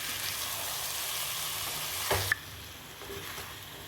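Steady sizzling of prawns frying in a pan with turmeric and salt, with a brief scrape of stirring before the sizzle drops a little quieter.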